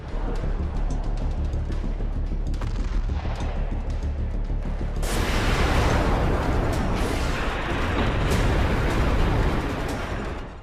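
Heavy explosions and blasts at sea near the Strait of Hormuz during US-Iran tensions, a loud continuous roar of booming detonations that swells into a denser, brighter barrage midway.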